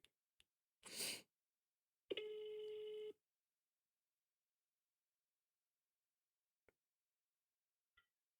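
A short burst of noise, then a single electronic ring tone lasting about a second, followed by near silence with a couple of faint clicks.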